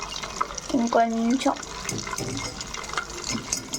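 Butter simmers in a pot while being cooked down into homemade ghee, giving a soft, continuous bubbling and frothing sound. A person talks over it close by.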